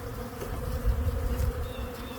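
Honey bees buzzing at an opened hive, a dense continuous hum of many bees close by, steady and moderately loud with slight swells.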